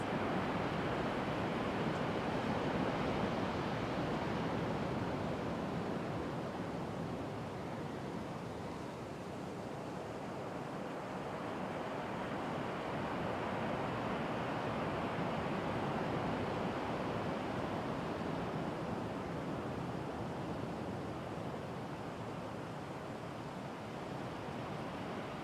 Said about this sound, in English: I'm hoping that you'll be able to hear some of the waves in the background